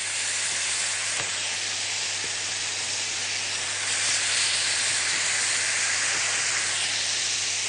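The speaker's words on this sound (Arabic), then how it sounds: "الفراخ لما تاخد الصدمه من ناحيتين وتاخد شكل الشوي كويس قوي" Chicken sears in a pan on a gas stovetop with a steady, loud sizzling hiss that runs throughout without a break, with no voices over it.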